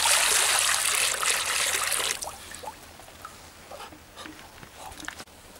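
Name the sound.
water being poured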